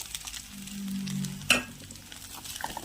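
Onion, green chili and sweet corn frying in oil in a home kitchen pan, a soft steady sizzle with one sharp clink of a utensil midway and light stirring scrapes, no talk.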